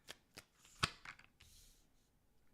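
Tarot cards are shuffled in a few short riffling bursts, quiet and close, with brief pauses between them.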